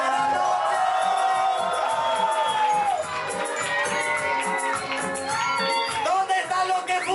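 A nightclub-style audience roars and cheers for a performer, a dense, loud crowd wash with whoops and shouts running throughout under music-like tones.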